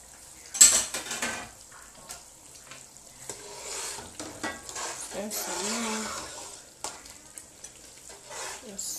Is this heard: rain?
no